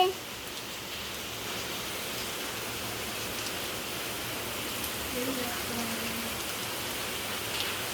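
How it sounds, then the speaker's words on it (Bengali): Heavy rain pours steadily outdoors, a dense, even hiss of drops on surfaces that stays constant throughout, with no clear talk over it. "আজকে এখানে বৃষ্টি হচ্ছে অনেক জোরসে।"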